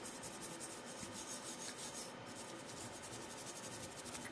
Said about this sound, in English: the brass or the copper bristles are going to probably do the best for this rust removal on this butt plate.